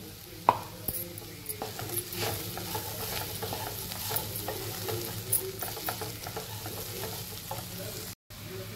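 Mixed vegetables stir-fried with a roasted coconut and garam masala paste for a Bhogi special bhaji: a steady, soft sizzle throughout, broken by repeated scraping stir strokes and one sharp clack near the start, with no talk.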